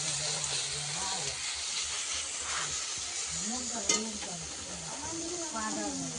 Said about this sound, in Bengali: যে লোটে মাছ দিয়ে কচুর ফুল হবে সেই লোটে মাছগুলো এখন ভাজা চলছে।